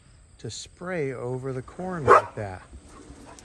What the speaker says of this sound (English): Sorry about the dog barking, my wife just let him out.